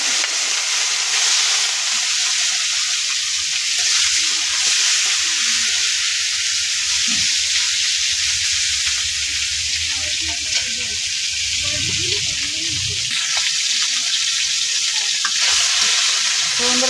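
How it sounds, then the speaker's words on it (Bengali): Fish fries loudly in a pan, a dense continuous sizzle and crackle close by, steady for the whole stretch with occasional stirring scrapes underneath. "এদিকে মাছ ভাজি দিয়ে গেছে, আমি নামাই নেব।"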